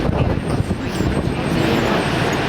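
Airbus A380 airliner flying past at the 2009 Portrush Airshow, a loud, steady broadband engine roar that fills the whole moment without pause.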